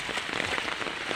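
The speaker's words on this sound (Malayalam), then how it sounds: "ഇവിടെ റോട്ടിലെ വെള്ളം കണ്ടോ, മഴയാട്ടോ" Rain patters hard onto a flooded road, with dense splashing drops and bursts of close, loud drumming on water and surfaces; no voices.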